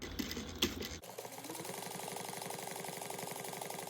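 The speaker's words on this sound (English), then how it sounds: "then we're going to top stitch the top of the pocket" A sewing machine top-stitches the top of a bag pocket: after a brief clunk of handling it starts up and runs in a fast, even, mechanical patter that holds steady at a moderate, close level.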